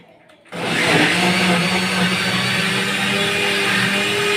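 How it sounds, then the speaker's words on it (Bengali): An electric blender whirs into life after a brief quiet moment, churning cream for homemade ghee with a loud, steady motor drone that holds close and even to the end. "অল্প ব্লেন্ড করে নিলে হবে"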